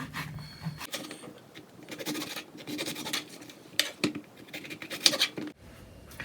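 Knife chopping an eggplant into tiny pieces on a cutting board, a steady run of close scraping, tapping cuts with a few sharper clicks, alone without speech.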